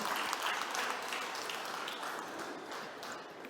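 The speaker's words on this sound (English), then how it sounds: "Give a big round of applause for Shatbhi again." Steady applause from an audience at a talk, dense clapping filling the whole stretch at an even level with no voices over it.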